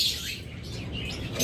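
Lovebirds chirping at a bird seller's, a steady wash of high chirps and tweets from several caged birds throughout.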